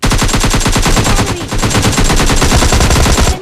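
An AKM rifle fires in the game PUBG Mobile Lite, a loud unbroken stream of rapid automatic shots lasting several seconds with a brief dip in the middle.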